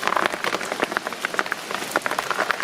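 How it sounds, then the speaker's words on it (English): Water drips and patters irregularly on a covered cart ride through mountains and caves, scattered close taps of varying loudness over a soft background hiss. "there's all sorts of drips around here, so you definitely will want to keep your cover over you."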